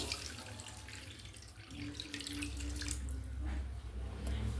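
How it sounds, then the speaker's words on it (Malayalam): Boiled, cooled water pours steadily into a cooking pan for rice putt, a continuous close splashing gush that runs alone for several seconds. "ഇനി നമുക്കതിലേക്ക് വെള്ളം ഒഴിച്ചു കൊടുക്കാം."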